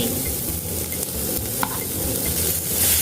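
Shrimp and squid hit a hot pan of garlic and shallots and are stir-fried, producing a close, loud sizzle mixed with the scrape and clatter of a spatula, without any talk.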